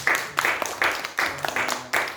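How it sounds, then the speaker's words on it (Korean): Audience applause at a film festival for SDGs in Chungju, Korea: a hall full of clapping in uneven, pulsing waves that swell and dip over a couple of seconds. "오늘 깊이 있는 이야기를 나눠주신 조성윤 대표님과 전찬일 평론가님께 다시 한번 뜨거운 감사의 박수 부탁드리겠습니다"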